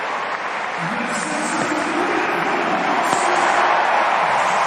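A big Twenty20 cricket crowd at a night Big Bash League match between Melbourne Stars and Sydney Sixers roars steadily in a continuous wash of cheering and applause, loud and unbroken throughout.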